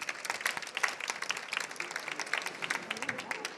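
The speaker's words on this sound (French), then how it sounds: "J'aimerais qu'on les applaudisse chaleureusement, s'il vous plaît." Steady applause from a conference audience at an international street food talk, with dense crackling clapping that sustains at a moderate level throughout.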